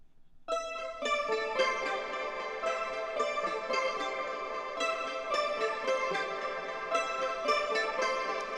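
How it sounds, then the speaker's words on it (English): A dreamy, shimmering guitar part from an Afropop highlife beat instrumental plays alone, ringing bright repeated notes in a steady rhythm from start to finish. "And then there's this dreamy guitar that I did"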